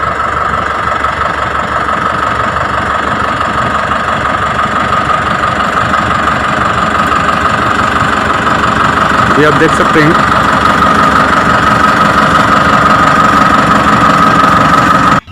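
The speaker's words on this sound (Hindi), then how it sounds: "अभी देखिए ट्रैक्टर रिवर्स पे आ रहा है तो पीटीओ भी रिवर्स पे घूम रहा है।" A tractor engine runs steadily while reversing with its ground-driven PTO shaft turning, a continuous loud mid-range drone with knocking vibration throughout and brief speech over it.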